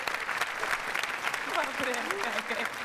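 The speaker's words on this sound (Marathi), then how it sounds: "जोरदार टाळ्या झाला पाहिजे" An audience claps in warm welcome for actress Mukta Barve at a comedy show, a dense steady round of applause under a host's talking voice.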